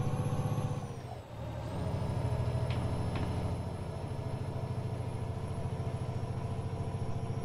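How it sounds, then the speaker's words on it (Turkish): Renault Range T truck idling in Euro Truck Simulator 2, a steady low diesel rumble with a faint high whine and a brief dip near the start, no voices. "Motor sesini daha iyi duyun diye."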